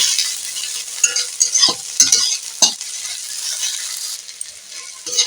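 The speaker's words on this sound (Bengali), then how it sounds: "দুটি মাঝারি সাইজের পেঁয়াজকে আমি কেটে দিয়েছি এটাকে নিয়ে ভেজে নেব" Chopped onions and garlic paste fry in a pan with a steady bright sizzle, broken by several sharp scraping clinks of a utensil stirring against the metal; no one speaks.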